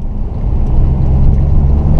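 A Porsche Cayman S engine gives a low, steady, loud drone close by as the car climbs a hill, with no talking over it.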